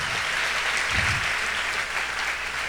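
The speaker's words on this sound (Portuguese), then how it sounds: "Vamos aplaudir o Senhor Jesus?" A church congregation applauds during a Portuguese-language service, a loud, sustained wash of many hands clapping steadily from start to finish, with no clear speech.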